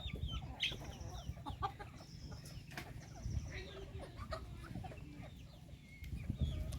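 Chickens clucking and chirping nearby in short scattered calls, over a low background rumble, with faint voices now and then.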